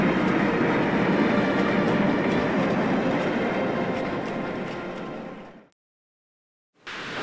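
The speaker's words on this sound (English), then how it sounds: "As Edward steamed to Wellsworth Station with his goods train" A steam engine hauls a goods train to a country station, a loud, steady rumble of wheels and rolling wagons that fades out, drops to silence, then resumes briefly near the end.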